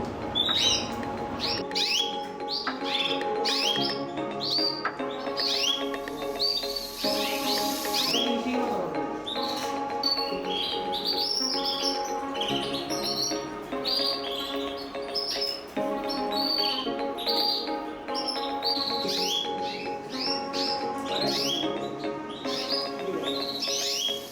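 Several canaries at a canary breeding farm sing continuously in busy, overlapping trills and chirps, bright and close, with no pauses throughout.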